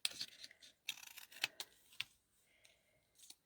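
Scissors snip away excess cardstock while a handmade birthday card is trimmed, giving a few crisp, close cuts separated by short pauses, with soft paper rustling and handling noises between them.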